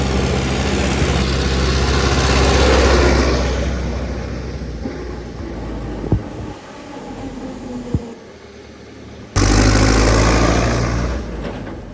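A Belarus 80X tractor's engine running steady and close, a low rumbling drone that eases down midway and then surges back louder, with a couple of sharp knocks, no voices.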